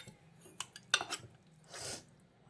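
Spinach-like greens are mashed in a cooking pot with a wooden dal masher, giving faint, scattered knocks and clinks against the pot followed by a soft, mushy squelch.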